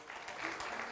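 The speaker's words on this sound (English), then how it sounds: "Clap your hands if you know God is good." A church congregation claps along during a worship service, producing a short burst of dense, moderately quiet applause.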